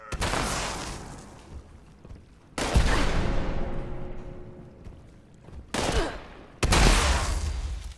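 Shotgun blasts in the game Fallout 76, a few loud bursts with booming decays, one early, a big one near three seconds and two more near the end, no talking.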